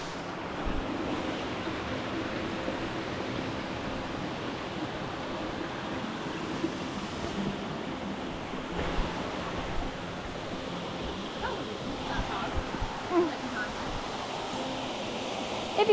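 A rainforest waterfall rushes in a steady, full roar of falling water close by, with no pauses and slight gusty variations.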